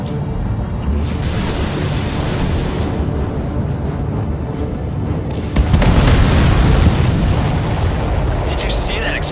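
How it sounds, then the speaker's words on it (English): An enemy supply ship explodes in the combat flight game Ace Combat 7, a loud rumbling blast that swells mid-clip over continuous jet and battle noise. "Did you see that explosion?"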